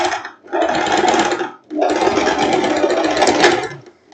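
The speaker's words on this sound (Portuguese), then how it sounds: "Agora eu costuro aqui e vamos ver." A sewing machine stitching a boho maxi dress: two loud close runs of rapid mechanical whirring, a short burst then a longer stretch, separated by a brief pause.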